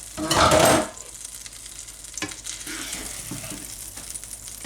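A small pat of butter hits a hot pan with a loud, close burst of sizzling that quickly settles into a softer, crackling fry with a few light scrapes as an egg sandwich toasts.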